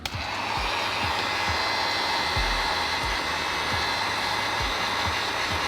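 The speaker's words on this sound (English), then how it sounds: "We're gonna go ahead and heat this area right here with the heat gun." Steady whoosh of a heat gun blowing hot air onto a Yeezy YS-01 slide to lift creases, a continuous broadband hiss held close and loud throughout with faint low thumps beneath.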